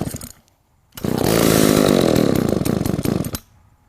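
A gas chainsaw with the choke on starts up after a brief pull, then roars loudly at high revs for about two and a half seconds before cutting back, close by with no talking.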